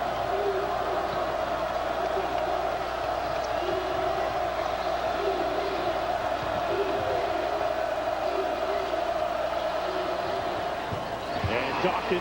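Crowd noise fills a college basketball arena during Duke at Clemson, a sustained roar with scattered shouts and whoops, while an announcer talks over it and sneaker squeaks and ball bounces come through faintly.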